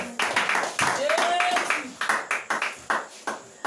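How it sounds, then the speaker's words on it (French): A congregation at a bilingual French and English church service claps for Jesus, with a run of loud, evenly spaced hand claps through the second half. Voices and a short sung or whistled tone come earlier. "Let's clap for Jesus."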